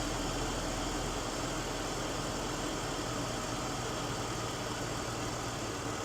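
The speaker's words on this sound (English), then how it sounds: "It's idling really smooth" A BMW E46 330i engine idles smoothly, a steady, even mechanical hum with a faint vibrating undertone, continuous and close with no revving or changes.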